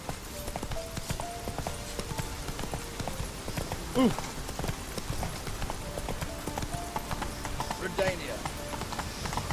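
Horse Roach trotting with steady clip-clop hooves in The Witcher 3 game world, the hoofbeats running under ongoing dialogue from several speaking voices.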